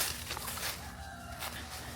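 Chickens by a tree outdoors give a short run of clucks and crowing-like calls, close and fairly loud against a steady outdoor background.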